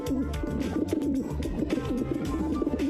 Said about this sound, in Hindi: वो एक कबूतर की आवाजें निकालने लगा।